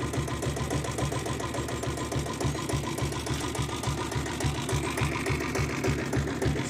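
A 7.5 HP self-start diesel Royal Enfield Bullet engine idles with a steady, fast mechanical knock, an even rhythmic chugging beat held close and unchanging, with no talking.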